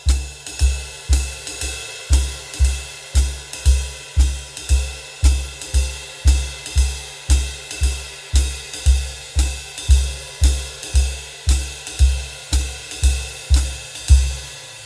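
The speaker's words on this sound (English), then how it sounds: "once your hi-hat and your ride cymbal are settled, we're going to add the kick drum, the bass drum" Jazz drum groove with a steady swinging ride cymbal and hi-hat over a light feathered bass drum thumping on every beat, even and unbroken for the whole stretch, close and clear with no talking.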